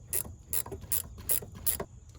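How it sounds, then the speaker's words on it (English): Several quick ratcheting clicks from a wrench tightening a bolt on a 2004 Chevrolet 2500HD hydroboost unit, coming in five short evenly spaced bursts, close and fairly quiet with no talking. "So I'm just going to finish this off with a wrench."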